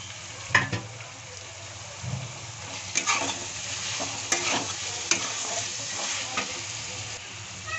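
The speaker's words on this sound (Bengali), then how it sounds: "এখন আমি এর মধ্যে দিয়ে দিচ্ছি ভেজে রাখা আলু" Fried potatoes go into a pan with spices and are stirred, bringing a soft continuous sizzle broken by irregular scraping and clinking of a spoon against the pan, close and fairly quiet.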